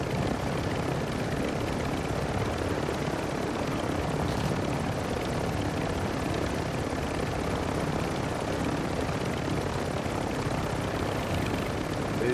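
Helicopter in a video game, a steady dense rotor and engine roar that stays loud and unbroken throughout, close and constant with no talk over it.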